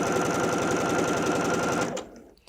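A Bernette b77 sewing machine stitches in a rapid, even mechanical whir for about two seconds, then stops abruptly and leaves near silence.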